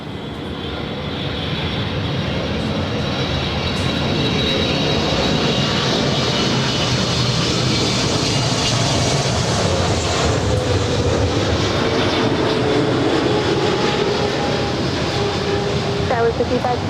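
An airliner, a JetBlue jet cleared onto runway 24 right at LAX, roars steadily for about seventeen seconds, its broad engine rumble and whine staying loud and close throughout with radio voices faintly under it.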